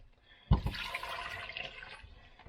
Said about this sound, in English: we'll finish ladling this over our cucumbers here